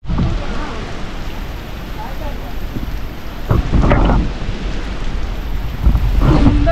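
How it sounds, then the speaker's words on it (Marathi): Heavy rain pours steadily at a beach hotel, with loud rumbling bursts of thunder and some wind buffeting the microphone throughout. "पाऊस एवढा जोरात आहे"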